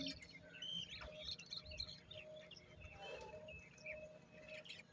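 Birds chirp and call by a village riverbank among rice fields, several short bright tweets scattered over a faint insect buzz, fairly quiet and distant.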